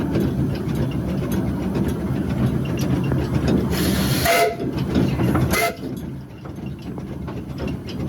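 A Bala Lake Railway steam train runs round its carriages, with steady rolling wheel and mechanical clatter throughout, a brief sharp hiss of steam midway, then a quieter continued rumble, heard close from the footplate.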